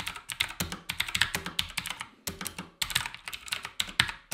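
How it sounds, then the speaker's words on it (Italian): Rapid, loud clicking of typing on a gaming keyboard with blue mechanical switches, close up, in bursts of sharp keystrokes with a brief pause midway and no talking. "E effettivamente gli switch blu sono piuttosto rumorosi."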